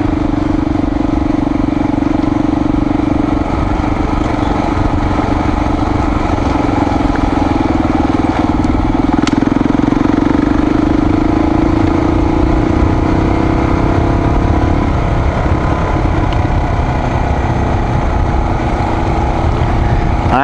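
A Honda XR400R dirt bike's engine drones steadily while climbing uphill, a continuous loud, rough hum that shifts slightly in pitch but never drops out, with no talking.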